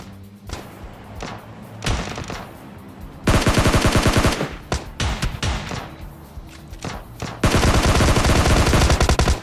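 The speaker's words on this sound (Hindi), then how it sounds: "ऊपर से यार टॉमी चलती आपको सुन गई होगी" Tommy gun firing in the mobile game PUBG Mobile Lite, loud rapid automatic bursts in several runs with scattered single shots and thuds between, close and dense, no talk over it.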